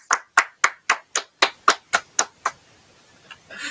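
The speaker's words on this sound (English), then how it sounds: "Everybody give a round of applause." About ten slow, even hand claps sound close and clear at a steady rhythm, fading into quiet room noise afterward.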